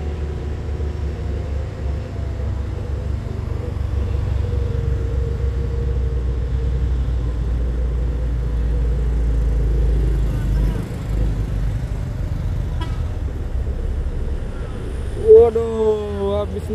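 A white Nissan truck straining uphill at Bukit Kodok, its engine a steady low rumble that holds for a long stretch before fading toward a brief higher whine near the end, with voices talking over it.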